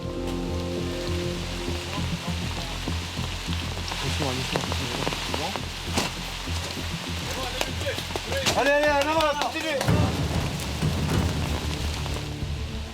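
Steady rain falls across a French Foreign Legion Jaguar training course of mud and barbed wire, a constant hiss under loud, urgent shouted commands in French and bursts of movement.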